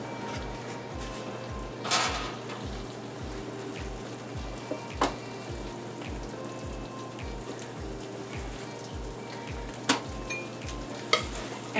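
Hot peanut brittle poured into a buttered pan, a continuous bubbling sizzle with a steady rhythmic low pulsing underneath and occasional sharp scrapes and clicks of the pot and spoon.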